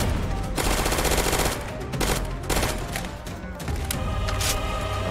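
Fast sustained bursts from an automatic gun in a Roblox shooter, loud and close, a dense rattling spray that pauses briefly and resumes in several strings.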